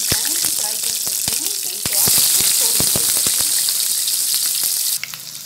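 Paneer cubes frying in leftover oil in a pan, with a loud continuous sizzle and crackle that swells midway, punctuated by sharp pops and spatters throughout.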